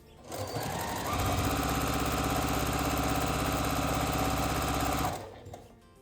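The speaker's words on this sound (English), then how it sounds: "My machine is a straight stitch only" Straight-stitch-only sewing machine stitching a fabric badge lanyard: a loud, steady mechanical whirring hum with rapid needle chatter that runs evenly for about four seconds, then stops abruptly, with no talking.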